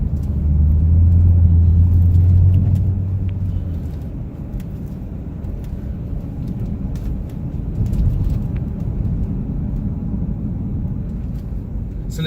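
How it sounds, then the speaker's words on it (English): A deep supercharged engine rumble with exhaust note from a 2009 Cadillac CTS-V, loud at first then settling into a steady lower drone, heard close by. "That supercharger, it sounds so good with the exhaust they have on this."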